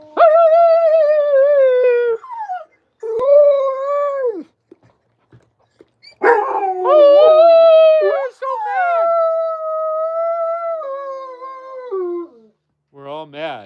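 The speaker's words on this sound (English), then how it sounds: "The wolves are howling mad." Several wolves howl in long, wavering, high-pitched howls that rise and fall, loud and close, with brief pauses between bursts and no voices.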